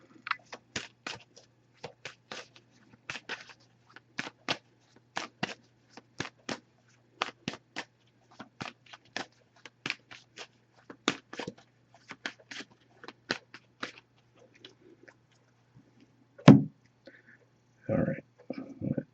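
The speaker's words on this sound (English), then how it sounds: "I'm going to give this a few shuffles, then we'll cut the deck and pull a card" Tarot cards are shuffled in quick, crisp riffling bursts, close up and repeated many times, followed by a few louder handling sounds.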